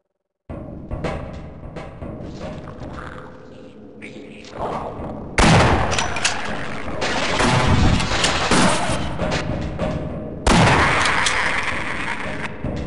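Shotgun blasts ring out in the video game Half-Life, in the Waterworks area: loud booming shots with echoing tails, the heaviest arriving about five seconds apart amid rumbling game noise.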